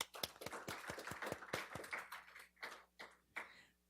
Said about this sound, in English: give them a round of applause for all the hard work that they've done